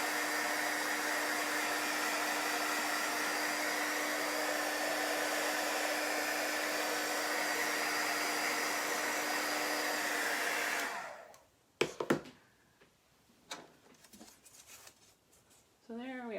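Heat tool drying paint on a round chalk-art door hanger, running as a loud, steady whine for about eleven seconds before switching off, followed by a few handling clicks and rustles.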